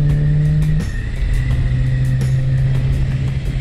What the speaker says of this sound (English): It has the weirdest sound of any motorcycle. It sounds like a vacuum cleaner.